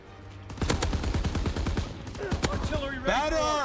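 Rapid bursts of KG M-21 assault rifle fire in a Call of Duty WW2 match, dense and close, with voiced game chatter and effects overlapping near the end.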